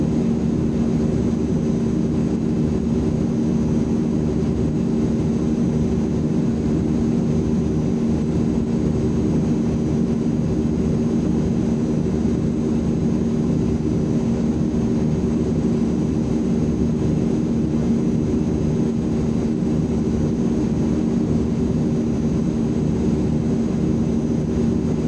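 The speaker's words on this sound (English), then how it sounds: "What a cool aircraft this is." Steady, continuous drone of the Azurpoly C-160 Transall's twin turboprop engines in Microsoft Flight Simulator 2020, a loud low hum holding unchanged through a climb with no talking over it.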